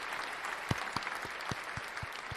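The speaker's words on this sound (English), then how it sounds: "Let's get a round of applause for that." Scattered applause from a small group during a football podcast, with a few distinct individual claps standing out above a softer, busier background.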